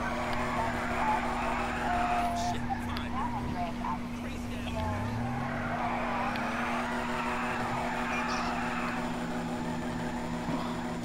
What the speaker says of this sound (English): This car sounds really nice, guys.